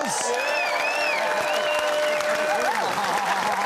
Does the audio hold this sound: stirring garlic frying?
no